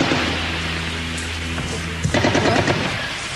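Bursts of automatic gunfire at Netzarim, an Israeli enclave, as rapid crackling volleys a moderate distance away over a continuous low engine-like hum, the firing thickening toward the end.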